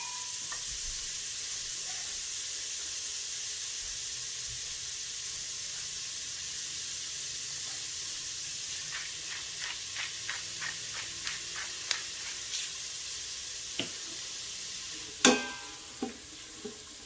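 Onions sizzle gently in a pan with a low, steady hiss, and clicks and crackles of stirring come in later, ending in a louder scrape.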